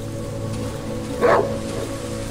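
A single dog bark or yip sounds at mid-distance in the Darkwoods video game, rising briefly out of a steady low ambient hum.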